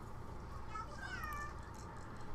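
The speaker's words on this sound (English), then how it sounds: "Now we're teaching Kitty how to speak." A cat in The Sims 2 gives a single drawn-out meow in the middle of the clip, set against a steady, noisy game background.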